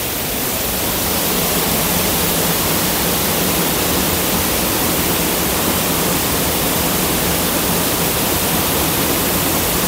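Waterfall roars as a loud, continuous broadband rush of falling water that stays steady and unbroken throughout, with no voices over it.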